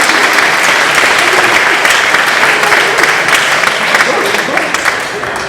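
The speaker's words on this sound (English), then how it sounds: "can we give them a round of applause" An audience at a trading seminar claps steadily throughout, a dense, loud wash of applause that holds at a constant level without a break.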